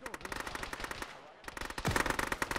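Heavy automatic gunfire in a military shooter game, with continuous bursts from several weapons that pause briefly and then resume louder, under faint radio voices.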